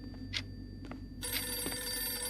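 In a horror video game, a telephone rings with repeated bursts of bright electronic bell tone, loud and close over a quiet low hum.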